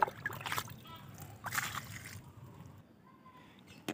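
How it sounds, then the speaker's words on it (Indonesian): Water is poured over the soil of a newly transplanted grapevine, giving faint splashes and sloshing bursts at irregular intervals with quieter trickling between them, heard up close and outdoors. "Siram hingga jenuh."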